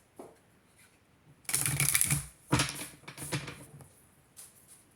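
Tarot cards being shuffled and handled to draw a card, a quick papery riffle and rustle close by in two or three short bursts, with a soft tap beforehand and quiet at the end.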